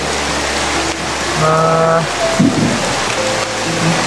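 Heavy rain pours outdoors in a steady, loud, dense wash, with occasional short tonal sounds and a brief thump cutting through the downpour.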